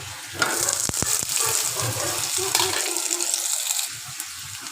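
Potatoes frying in oil for sabudana khichdi, giving a continuous close sizzle with a few sharp stirring knocks, fading near the end.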